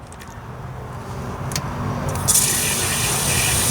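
Windshield washer fluid gurgles and hisses into a tractor tire on a 110TLB, a steady filling wash that grows gradually louder, with a few faint clicks early and a sharper hiss burst toward the end.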